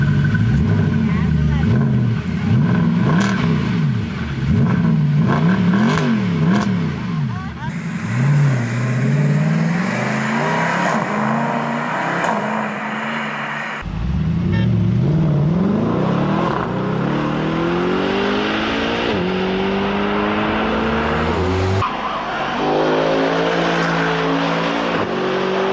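A stock sports car's titanium exhaust with 2.8-inch pipes revs loudly and close by, the engine note climbing and dropping in repeated bursts, then a long sweeping rise.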